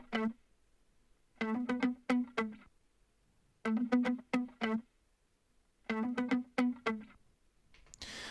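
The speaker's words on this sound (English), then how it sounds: "So there's some guitar that I played" Electric guitar played through effects pedals in three bursts of quick, distorted plucked notes separated by short pauses, clear and up front with no voices.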